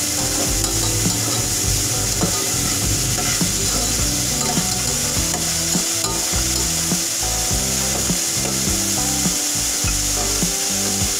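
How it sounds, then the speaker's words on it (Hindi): Chopped onions sautéing in desi ghee or butter, a continuous sizzle with steady scraping and stirring strokes of a spoon against the pan, close and constant. "अब इसमें चॉप प्याज डाल दें। 1 मिनट तक प्याज को सोते करें।"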